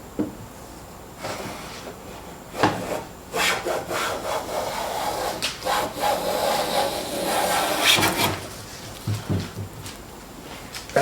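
Marples X4 hand plane taking long, wide shavings off a wooden board, a close series of rasping, scraping strokes with short pauses between them, each stroke loud and textured, with no talk.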